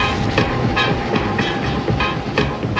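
An airport express train in Hong Kong runs beneath the harbour with a loud, steady rumble, and regular clickety-clack beats from the rails recur about every half second.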